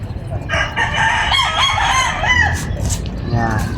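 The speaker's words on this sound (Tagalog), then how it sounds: "Tandang." A rooster crows loudly and close by, its drawn-out wavering call rising over a steady rumble of background noise. A second, shorter call follows near the end.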